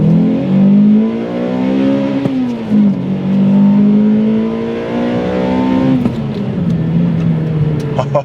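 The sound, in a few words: Toyota Celica 2ZZ engine revving to 8,000 RPM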